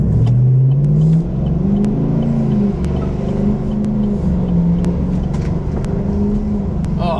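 A GMC Sierra with a 5.3 engine and a Borla Atak exhaust revs loud and close, a deep aggressive drone that swells and eases with throttle throughout.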